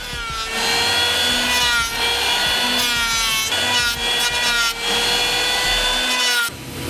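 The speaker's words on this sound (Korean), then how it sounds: "치목을 할 때 전기톱은 없어서는 안 될 도구지만 귀를 찌르는 듯한 굉음과 무수히 날리는 톱밥을" An electric saw cuts through timber in loud, repeated passes, its whining pitch rising and falling with each stroke, briefly pausing between cuts, as beams are shaped for a traditional Korean hanok house.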